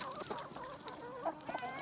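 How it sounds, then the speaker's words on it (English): A Dorking hen clucks softly in short, quick bursts, close by and fairly quiet, with no talking. "my Dorking hen"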